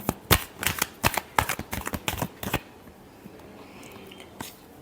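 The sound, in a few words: shuffling tarot cards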